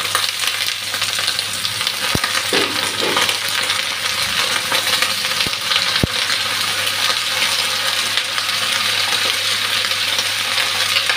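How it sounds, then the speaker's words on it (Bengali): Potatoes and vegetables fry together in a pan with a continuous close sizzle. A few sharp clinks and scraping sounds of stirring come through the steady hiss, with no talking. "এখন সবজিগুলা দিয়ে দিচ্ছি।"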